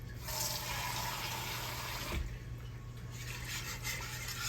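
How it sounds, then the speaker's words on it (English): Water pours steadily for a few seconds, a brief pause, then more splashing and trickling into a container, with a low hum underneath. "Let me add some more water here."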